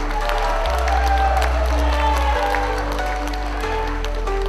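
A crowd applauding and cheering at a youth conference, loud, dense and sustained clapping with whoops, filling the whole stretch.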